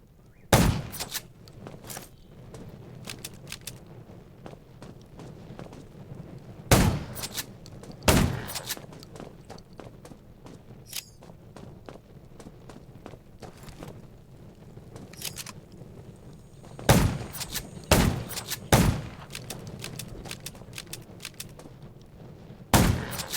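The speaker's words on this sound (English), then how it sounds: "Gunshots will attract." Scattered gunshots crack out in irregular bursts in the mobile video game Undawn, some single and some in quick pairs, over a low steady rumble of background ambience.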